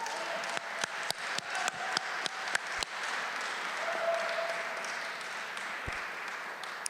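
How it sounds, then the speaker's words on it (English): Applause for volunteers before a school Black History Month play, scattered sharp individual claps at first, then a softer sustained patter of audience clapping, moderately faint in a room. "I want a round of applause for them before the play even begins"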